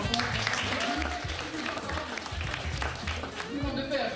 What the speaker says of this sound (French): On peut les applaudir, ils sont dans le fond.